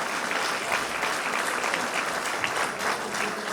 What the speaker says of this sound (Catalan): Això mereix un aplaudiment.